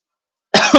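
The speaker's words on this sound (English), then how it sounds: "I got a bit of a cough this morning." A single sharp cough, close and loud, with a second burst right after, following silence.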